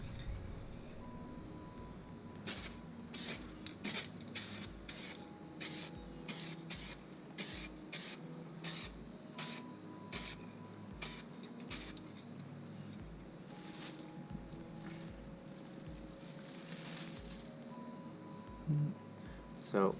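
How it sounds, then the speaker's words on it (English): A touch-up spray can hisses out a second coat of red paint on a Nissan 300ZX in many short, close, rhythmic bursts with brief pauses between them, against a faint background hum. "I'm about to put on the second coat of red."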